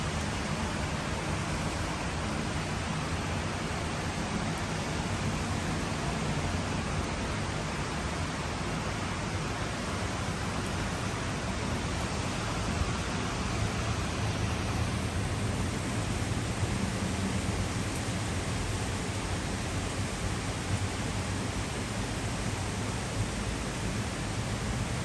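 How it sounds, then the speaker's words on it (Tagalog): Heavy rain pours down in Bangkok near an elevated BTS station and highway, making a dense, steady, unbroken roar with no lulls. "It's raining hard."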